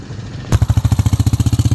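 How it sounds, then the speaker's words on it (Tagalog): A tricycle motor passes close by on a road beside a river, its engine rattling loudly in a fast, steady chugging pulse that starts abruptly. "may tumadaan kasi ng tricycle dito mga bay"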